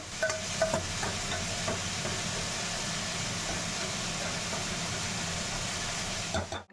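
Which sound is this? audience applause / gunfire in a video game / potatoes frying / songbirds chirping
potatoes frying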